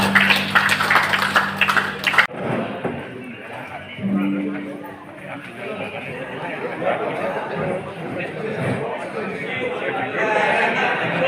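An audience at a Forum Bela Negara Indonesia gathering bursts into loud, sustained applause mixed with cheering and chatter. A voice is heard briefly before the clapping swells and carries on steadily.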